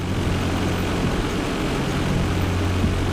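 Simulated Cessna 172 propeller engine at takeoff throttle in the Prepar3d flight simulator, a loud, steady droning roar with a constant low hum throughout.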